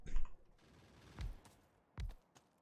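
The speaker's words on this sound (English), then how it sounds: "Oh, I hear my turrets shooting." Turrets shooting in Factorio, several quiet, short bursts of rapid gunfire popping at intervals, faint and somewhat distant, with near-silence between them.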